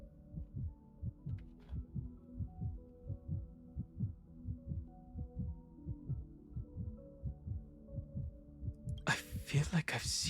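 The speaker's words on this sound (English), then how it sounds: "I hear the heartbeat. Do you hear it?" A steady, low, throbbing heartbeat pulses in regular double thumps inside the video game Honkai: Star Rail, quiet and muffled over a faint hum, with a brief burst of other game sound near the end.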